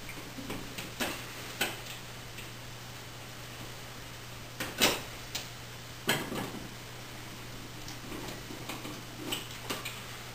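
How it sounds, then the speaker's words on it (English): Screws being removed from a light switch cover plate, heard as a series of faint, sparse ticks and small clicks over a steady low hum in a quiet room. "To remove the cover, you simply pull off the cover screws."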